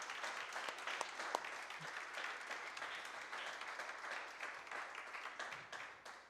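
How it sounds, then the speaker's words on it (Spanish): A church congregation applauds during a Spanish-language sermon, with steady, moderately quiet clapping from many hands that holds evenly for several seconds before tapering slightly near the end. "Dale un aplauso al Señor."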